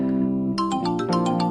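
A mobile phone rings with a bright, repeating electronic melody, loud and close, starting after a moment of steady background tone.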